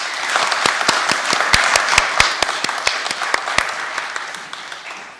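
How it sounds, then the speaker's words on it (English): Congregation at a remembrance service applauding, a crowd of hand claps with a few sharp, loud individual claps standing out, close and fading toward the end. "We should give a round of applause to all the turkeys."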